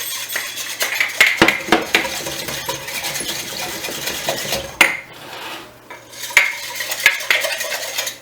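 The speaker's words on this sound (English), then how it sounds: "And I'm going to give it a good stir." A spoon stirs potato flakes and warm water in a container for sourdough starter feed, giving repeated clinking scrapes and taps with uneven knocks and brief pauses, close and fairly loud.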